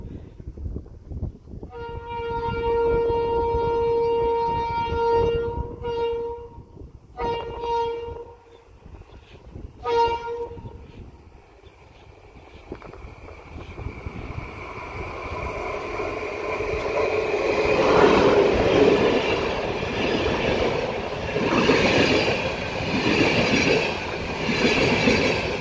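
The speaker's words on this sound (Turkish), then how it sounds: "Arkadaşlar tren geliyor." Train 22048 Doğu Ekspresi of TCDD arriving: a long, loud horn blast with several shorter blasts, then the growing roar of the approaching locomotive and carriages with rumbling wheels and some squeal.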